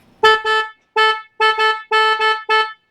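Horn of a 500cc 4x4 vehicle sounding in six loud, close honks, the first pair and a later pair in quick double bursts, with short silent gaps between them.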